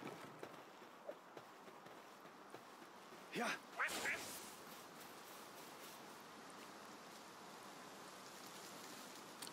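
A duck Pal in the Palworld video game gives a brief, quiet burst of quacks midway, set against a soft, steady wash of ambient game sound.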